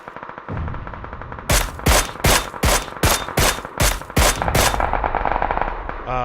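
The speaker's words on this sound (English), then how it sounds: "There's a bunch of shooting behind me" Rapid bursts of gunfire ring out in PUBG Battlegrounds from behind the player: about nine sharp, evenly spaced shots over a steady background rumble, loud and close-sounding, with no talking.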